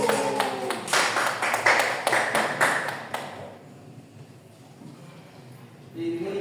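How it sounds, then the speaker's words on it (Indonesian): A classroom breaks into applause for a student, a dense burst of clapping for about three seconds that fades to quiet room tone, with faint murmuring voices in the background. "Tepuk tangan untuk Iva."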